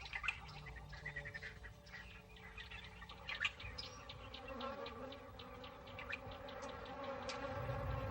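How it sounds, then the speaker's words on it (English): African bees buzzing faintly around, with short rising and falling whines as insects fly past, and occasional soft bird chirps in a quiet, hot outdoor setting. "African bees, like everything else, are desperate for sustenance. They seek out any source of moisture."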